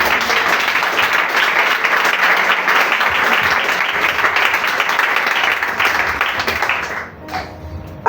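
Church congregation breaking into loud, sustained applause and clapping that fills the room for about seven seconds before fading into a quieter tail near the end.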